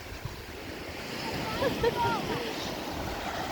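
Waves wash onto the shore of the sea at Prymorsk, a steady surf with gusty wind noise on the microphone, and faint brief voice-like sounds ride on top.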